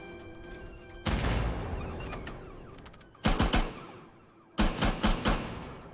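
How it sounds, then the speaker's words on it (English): Big ship guns fire in Star Citizen, in loud rapid volleys. A long roaring blast is followed by two separate bursts of sharp repeated shots with short quiet gaps between them, and no voices. "Look at those big guns."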